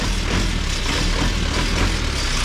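A truck engine idles loud and close, a steady rumbling drone that continues unbroken with no speech over it.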